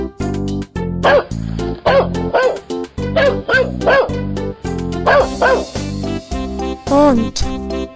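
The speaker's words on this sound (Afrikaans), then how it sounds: "Hond." Dog barking in a loud, close series of short bow-wow barks and yips, about a dozen in quick succession with slight whimpering tones, no talking over it.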